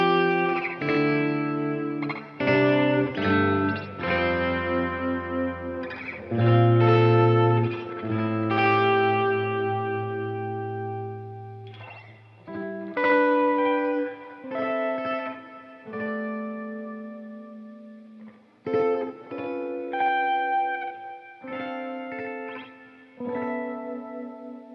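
Electric guitar run through a Line 6 HX Stomp with a freeze preset, playing sustained, layered chords and held notes that swell and decay with reverb and chorus-like shimmer, loud and alone with no talk.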